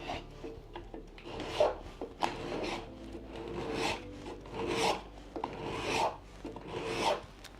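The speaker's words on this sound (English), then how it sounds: "The card scraper slipped slightly." A card scraper works across a wooden door with steady, rhythmic rasping strokes. The strokes are close and moderately quiet, repeating about once a second with no voices.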